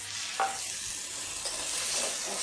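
Ginger garlic paste sizzles in a hot pan with steady frying hiss and a few soft scrapes of stirring, close and moderately loud, no voices.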